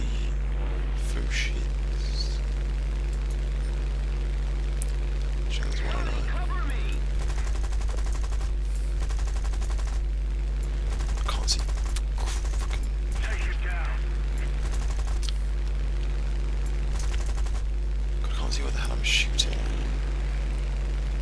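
Rear gunner machine gun fire in the War Thunder video game, rapid bursts of gunfire repeating over a constant loud aircraft engine drone, with someone talking at times.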